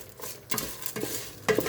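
Mung bean soup with coconut milk being stirred in a pot, a few soft scraping and swishing strokes close by with faint clinks, no one talking.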